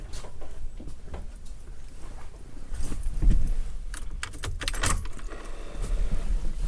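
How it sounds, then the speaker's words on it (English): Keys jangle and rattle in the ignition of a 1987 Chevy Caprice LS Brougham, with a few sharp metallic clicks over a low, steady rumble that continues throughout. "Turn the ignition on so I can show you the operation of it."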